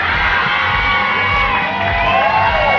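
A studio audience at the Indonesian comedy talk show Indonesia Lawak Klub cheers and whoops steadily, a dense, loud wash of crowd noise that holds for the whole stretch.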